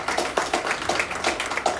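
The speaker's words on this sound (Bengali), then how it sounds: "ওর জন্য একটা জোরে হাততালি হয়েছে" Steady, rhythmic hand clapping from a small group at an event where actors speak, with brisk evenly spaced claps lasting under two seconds.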